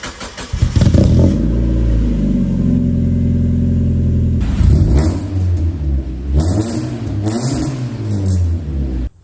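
A Lantis project car with a stainless steel high-flow rear muffler and 3.5-inch exit revving loudly, a raspy engine note climbing and holding, then several sharp blips with pops between them, close and alone.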